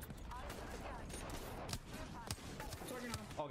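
Rapid gunfire in a ranked match of the shooter game Predecessor, with sharp repeated shots crackling through a faint, busy mix of game noise and low background sound.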